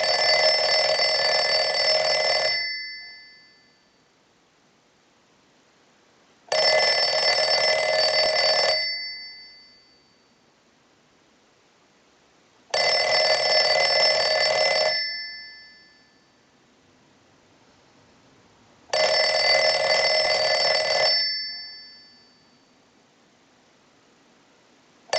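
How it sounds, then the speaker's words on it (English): Western Electric 302 rotary desk telephone ringing on a test signal, four loud bell bursts of about two seconds each separated by roughly four-second silences, the metallic ring lingering briefly after each burst. "send a ring cycle like you were getting a call"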